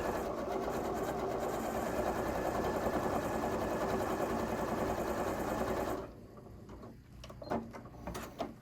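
Sewing machine stitching quilt pieces at a quarter-inch seam, a fast steady whirring drone running for about six seconds before stopping, followed by faint handling clicks.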